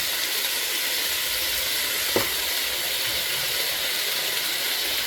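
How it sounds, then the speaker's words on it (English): Beef stew meat and garlic sizzle steadily in a pot, a broad continuous frying hiss filling the whole stretch at moderate level, with one brief clack of a utensil partway through and no talking. "I'm talking over the sound of this sizzling."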